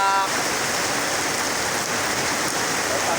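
Heavy rain pouring down steadily, a dense, loud, even hiss of drops on surfaces filling the whole span with no pauses and no voices.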